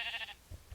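A sheep in the video game Minecraft gives a single short, quiet bleat, followed by a couple of faint low thumps.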